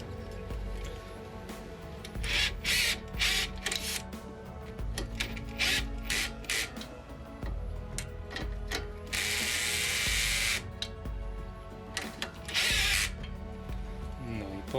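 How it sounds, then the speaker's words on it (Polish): A socket and ratchet loosen the front drop link nut on a Honda CR-V: quick repeated ratcheting clicks come in bursts with rubbing metal between them, close up and moderately loud, ending in a longer bright run of clicks. "Zobaczcie, jak to szybko idzie, jak mamy nasadkę, jakąś grzechotkę czy coś elektrycznego."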